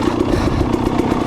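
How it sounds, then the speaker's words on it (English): A dirt bike's engine runs steadily while riding downhill on a trail, a loud continuous rumble with clattering and scraping from the trail close by, no talking. "I like to keep the bike running"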